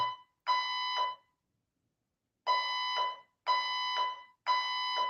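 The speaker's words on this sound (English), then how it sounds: "there's some sort of fire alarm here happening" A fire alarm sounds in loud, repeated electronic beeps, each tone about half a second long, with a pause after the first before three more in quick succession.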